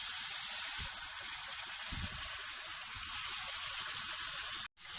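Beef korma frying with yogurt in a pot, a steady, bright hiss of sizzling with a few soft bumps, close and continuous, briefly cutting out near the end.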